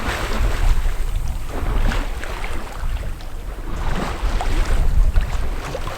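A sailboat moves through fog under steady wind, with constant gusty rushing and low buffeting noise and faint splashing of water against the hull, and no voices.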